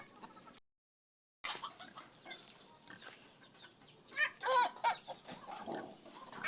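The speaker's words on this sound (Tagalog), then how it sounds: "di ba nagkakagulo na yung mga manok?" Chickens cluck and squawk in an agitated flurry on a farm, several birds at moderate distance, with louder bursts near the end after a brief gap.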